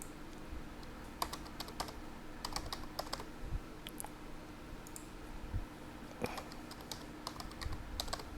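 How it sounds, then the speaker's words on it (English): A password being entered on a computer keyboard while setting up a local Windows 10 account: quiet, close key taps in short irregular bursts with brief pauses, no voice. "So just type in whatever you want."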